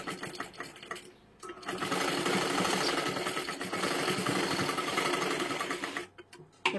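A sewing machine running a second line of double stitching, a steady fast mechanical whir that starts, pauses briefly, then runs continuously for several seconds before stopping, close and alone.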